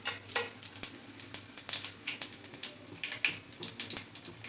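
Bay leaf, caraway, cloves and cardamom crackle in heated oil, with quiet, uneven pops and spits over a soft sizzle, heard close and without any talk.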